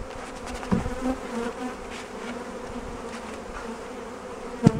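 Honey bees from a freshly installed package buzz in a steady, dense drone close by, with a few louder individual passes rising briefly above the swarm.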